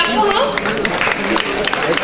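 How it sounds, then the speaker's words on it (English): Applause from a conference audience for a quiz contestant at an entrepreneurship event, a dense patter of clapping from a crowded hall with voices talking over it. "So let's clap for her"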